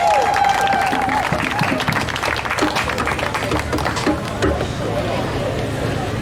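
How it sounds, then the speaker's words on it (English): A crowd at an outdoor Juneteenth dedication event claps and cheers for a speaker, dense steady applause with shouts blended in, loud and continuous throughout, with a faint tone near the start. "If you all clap your hands and make some noise, and give it up for Mr."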